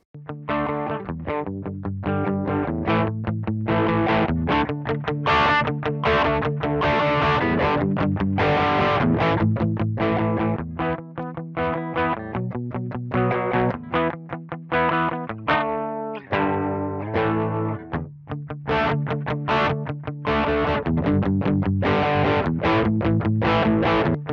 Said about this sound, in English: it's an easy to use, kind of transparent distortion pedal